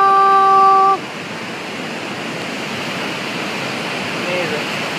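Yosemite Falls thunders in the rain, a broad, steady roar of falling water that stays loud throughout after a brief tonal sound at the very start.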